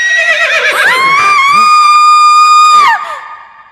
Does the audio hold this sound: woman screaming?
yes